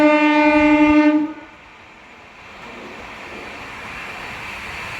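An Amrit Bharat Express train at Phaphund station sounds a loud, sustained horn blast for over a second, then gives way to a low, steady rumble of the train at the platform.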